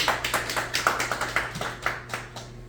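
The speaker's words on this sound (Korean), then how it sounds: "우리 회사 열심히 사진 찍어주는 우리 김동훈 작가 박수 한번" Small group at a meeting clapping in a fairly steady rhythm, about a dozen distinct claps, moderate in level, over a faint low hum.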